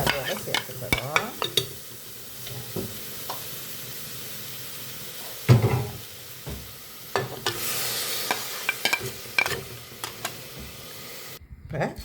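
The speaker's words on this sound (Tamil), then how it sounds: "இப்போ நாங்கள் அந்த அரைச்சி வச்ச மசாலாவை அதோட சேர்த்துக்கிறோம்." Ground masala cooks in a pan without oil, with a low hiss and sizzle under intermittent clinking, scraping stirs spread across several seconds, close and fairly quiet, with a voice talking at times.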